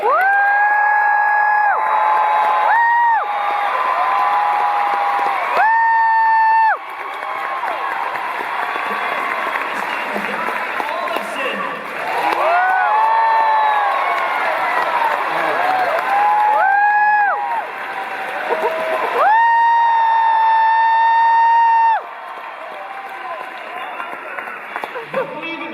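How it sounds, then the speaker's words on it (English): Audience at a PaleyFest panel for Severance cheering and applauding in a large hall, loud waves of clapping and whoops rising and falling across the whole stretch, with a host's amplified voice speaking over it at intervals. "Unbelievable that you turned and cheered."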